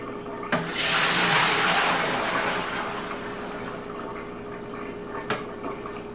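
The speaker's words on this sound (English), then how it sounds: "We're going to pour our batch into this bucket and add enough purified water to bring it up to 5¼ gallons." A beer batch poured into a plastic primary fermentation bucket: a steady gushing pour that fades into a quieter trickle, with a couple of faint knocks.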